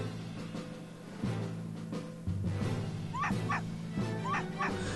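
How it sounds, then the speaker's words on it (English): Aggressive dog barking from the Professor Layton vs Phoenix Wright video game, heard as a few short yips and barks over steady game music, with rising tonal calls near the end. "Wait a minute, that aggressive bark."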